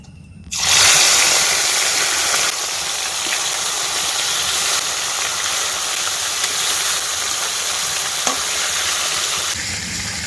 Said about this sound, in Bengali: তেল কিন্তু বন্ধুরা ভালোভাবে গরম হয়ে গেছে একে একে মাছগুলো সব ভেজে নেবো